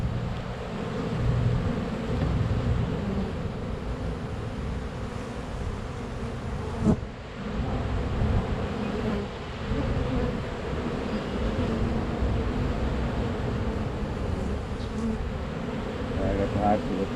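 A dense, continuous drone of many bees buzzing close by in an opened beehive in spring, steady and full with only slight swells.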